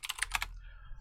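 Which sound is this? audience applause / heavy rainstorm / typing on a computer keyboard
typing on a computer keyboard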